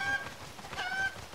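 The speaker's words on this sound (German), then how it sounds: "Okay, hier ist ein Huhn, da ist ein Huhn" Chickens cluck and squawk in a village in the video game Zelda: Breath of the Wild, making a few short, faint honking calls over a soft, low game ambience with no talk.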